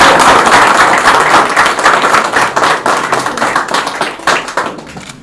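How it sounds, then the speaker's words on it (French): Sustained applause from a small group at a gold medal ceremony at a restaurant in Antananarivo, Madagascar, steady dense clapping for about five seconds that thins slightly toward the end. "Et on peut applaudir."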